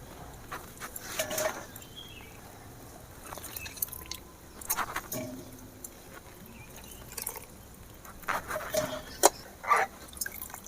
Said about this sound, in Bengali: এবারে জল থেকে ভালো করে নিগড়ে নেব যেমন না জল থাকে